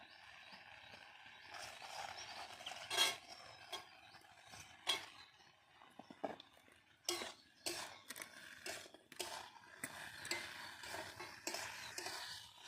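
Cabbage curry with fried bori is stirred and sautéed in a pan, with a quiet, intermittent scrape and clatter of a spatula against the metal, some strokes louder than others.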